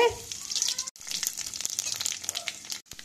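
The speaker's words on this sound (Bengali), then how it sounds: "তেল গরম করে এবার দিয়ে দিচ্ছি কালো জিরে" Black cumin seeds hit hot oil in a pan with a bright crackling sizzle, a dense hiss that runs throughout with brief breaks, close and moderately loud.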